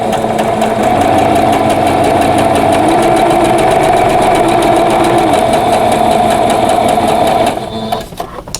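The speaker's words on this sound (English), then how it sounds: "I want to sew from this corner to this corner." A sewing machine stitches a vintage quilt block in a close, loud, steady motorized whir that runs for about seven seconds before stopping abruptly with a few clicks.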